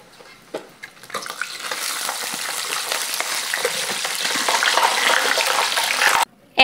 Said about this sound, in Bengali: একইভাবে আমি সবগুলো খুরমা ভেজে নেব।